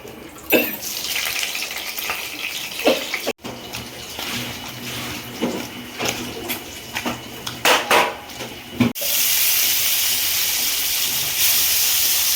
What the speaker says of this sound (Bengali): সর্ষের তেলের মধ্যে অল্প একটু কালো জিরে ফোড়ন